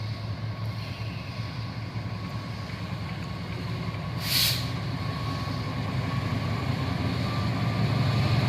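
The Cikuray train from Garut to Pasar Senen departing the station: a steady, loud rumble of the train throughout, growing slightly toward the end, with a brief hiss partway through.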